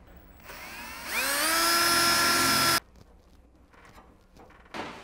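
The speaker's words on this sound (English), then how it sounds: "you want to plan for how you're going to get your rivet gun into all these locations." A pneumatic rivet gun fastening Dzus rails, a loud close burst of whining, hissing tool noise lasting under two seconds, followed by quieter shop clatter and a brief second hit at the end.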